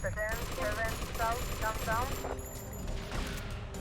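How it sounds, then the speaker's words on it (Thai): Gunfire while shooting police in the game GTA Vice City: quick bursts of rapid shots, moderately loud, mixed with game sound effects, with someone talking over part of it. "เนี่ยเนี่ยเอายิงตำรวจที่เหลือไปเลย"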